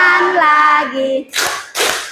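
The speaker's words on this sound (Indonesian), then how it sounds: "Tepuk tangan lagi." Hands clapping in two short bursts of claps, each dense and loud, following a stretch of children's singing in a playful action-song setting.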